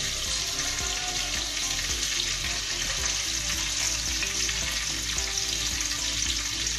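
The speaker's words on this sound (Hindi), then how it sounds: "चप्पल कबाब फ्राई हो चुके हैं दोनों साइडों से" Beef chapli kababs frying in a pan, a close, continuous sizzle and bubbling crackle that holds steady throughout with no voices.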